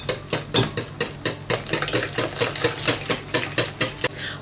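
A whisk beats eggs and milk together in a bowl, with quick, regular clinking strokes that repeat in a fast, steady rhythm, close and clear, with no talking.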